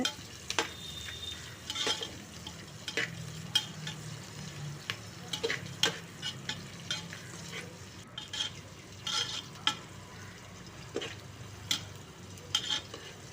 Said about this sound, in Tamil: அதையும் சேர்த்து நல்லா வதக்கலாங்க. பாருங்கள், நல்லா வதங்குது.